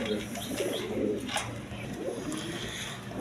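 A pair of lace shirting pigeons coo in low, rolling bursts nearby, fairly faint against a steady background hum.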